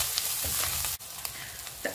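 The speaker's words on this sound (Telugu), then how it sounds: "ఉప్పు వేసుకొని గోల్డెన్ బ్రౌన్ వచ్చేదాకా ఆనియన్స్ ని ఫ్రై చేసుకోవాలి" Onions frying in a pan with salt for a leftover-rice tomato pulav, a steady broadband sizzle with a few soft stirring scrapes and a brief dip in the middle.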